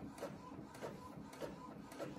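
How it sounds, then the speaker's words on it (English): Home printer running a job of digital patterns, a steady mechanical whir with regular rhythmic passes of the print head, about four evenly spaced strokes, close and moderately loud with no talking. "y'all do see that it's printing, right?"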